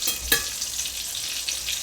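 Salmon patties fry in a cast iron pan with a steady, close sizzle and a bright crackling hiss that holds throughout, with a couple of sharper pops near the start.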